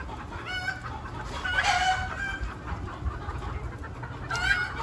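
Local chickens cluck and call around a small backyard poultry flock, mostly a near, moderate chorus of clucks with a few louder squawks over low background noise.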